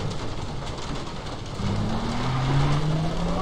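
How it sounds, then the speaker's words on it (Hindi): A car engine labors as it climbs a slope through wild jungle country, rising in level partway through and holding a steady, fairly close drone with no talk. "चढ़ाई पे चढ़ाना है मैं अपनी गाड़ी।"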